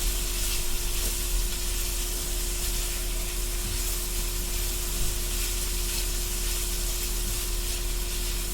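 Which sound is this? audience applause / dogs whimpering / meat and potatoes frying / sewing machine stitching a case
meat and potatoes frying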